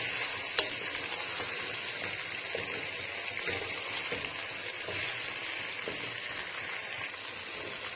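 Chicken pieces fry in a pot for Multani biryani and are stirred now and then, making a soft, steady sizzle with faint scraping and clinks underneath and no voice.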